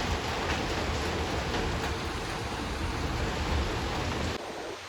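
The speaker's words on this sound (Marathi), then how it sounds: "हे बघा दिसतंय किती पाऊस पाऊस भरपूर पडतो" Heavy rain pours during a storm in a loud, steady roar with low rumbling underneath, then drops off slightly near the end; no one speaks.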